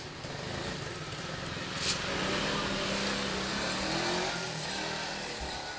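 Modified Honda CB100 motorcycle with its engine bored up to 240cc, running steadily at a close idle with a buzzing, throbbing exhaust note and slight rises in revs, heard alone without talk.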